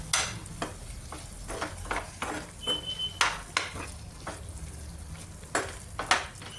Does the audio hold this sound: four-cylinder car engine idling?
no